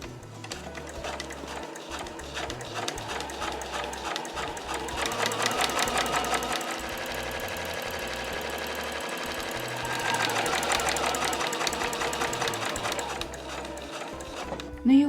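Household sewing machine stitching fabric for a reversible drawstring tote bag, starting with a backstitch: rapid rhythmic mechanical whirring and clatter that surges and eases in bursts, close and steady, with a brief pause midway.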